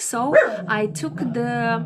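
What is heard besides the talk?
dog barking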